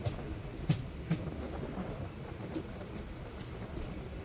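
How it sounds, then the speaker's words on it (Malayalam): A passenger train on the Kollam–Sengottai line pulling into Punalur railway station, a low continuous rumble of rolling wagons with a few faint clanks, steady and moderately distant. "പുനലൂർ റെയിൽവേ സ്റ്റേഷനിലേക്ക് വണ്ടി എടുത്തുകൊണ്ടിരിക്കുകയാണ്"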